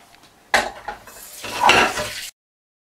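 Garlic raita with yogurt, onion, cumin and black pepper being mixed in a bowl, a spoon scraping and clinking in a couple of close bursts before stopping abruptly, no talking.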